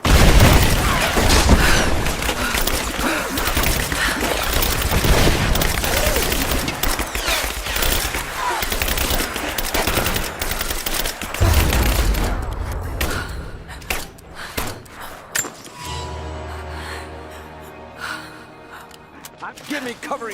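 Heavy rolling gunfire and explosions in a Rise of the Tomb Raider video game battle, loud and continuous for about twelve seconds, then thinning to scattered shots and thumps alongside gasps and voices.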